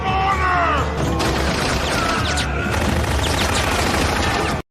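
Dense, loud, sustained machine gun fire from an action movie scene, with an old man dual-wielding machine guns, forms a continuous roar of overlapping shots and impacts that cuts off abruptly at the end.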